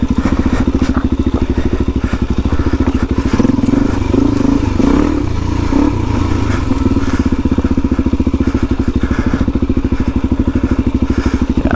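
Suzuki DRZ 400e dual-sport motorcycle loaded with rack bags rolling down a dirt trail, its engine droning steadily and close with a thick rumble, plus thumps and clatter from the rough ground over about twelve seconds.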